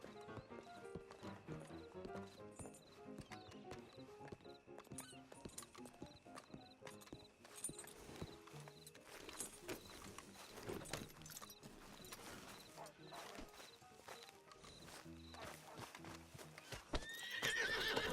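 Horses ridden in Red Dead Redemption 2 give a steady rapid clatter of hooves with occasional whinnies and tack jingling, continuous and fairly close throughout.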